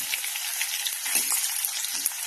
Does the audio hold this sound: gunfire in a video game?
no